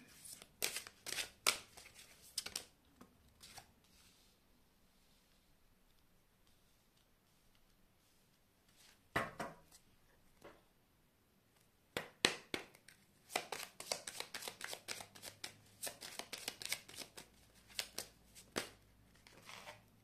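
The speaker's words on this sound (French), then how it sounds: "j'installe toutes les cartes pour le 12, 13 et 14 juillet" Tarot cards being laid out and handled on a table: sharp, close snaps and taps in quick clusters, separated by quiet pauses.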